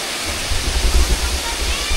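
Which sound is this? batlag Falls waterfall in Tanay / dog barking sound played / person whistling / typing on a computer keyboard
batlag Falls waterfall in Tanay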